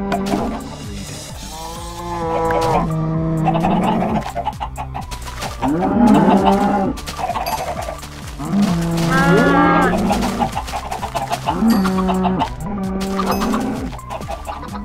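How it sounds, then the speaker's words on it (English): Several cows in a video game moo in long, loud, drawn-out calls, one after another, with a few overlapping and faint bird or chicken sounds in the background. "So we've got a good amount of cows over there."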